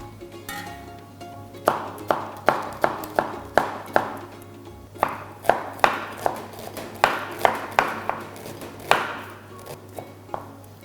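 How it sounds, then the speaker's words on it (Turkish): A knife chopping onion on a cutting board in a home kitchen, about twenty crisp, evenly spaced strokes at a steady rhythm, close and clear with a low background hum. "Önce soğanımızı doğrayarak başlıyoruz soğanımızı yemeklik doğruyoruz."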